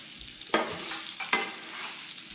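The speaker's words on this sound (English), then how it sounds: "I'm going to add in a little less than a cup of some onion. Woo! Sizzling." Chopped onion sizzles and crackles in a hot pan for Mexican rice, with two sharp bursts of frying as it is added and stirred, close by and steady throughout.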